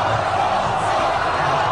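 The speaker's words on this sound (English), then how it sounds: "the cheering is happening" A stadium crowd cheering for Ron Paul, a dense, steady roar of many voices sustained throughout without breaks, heard from within the crowd.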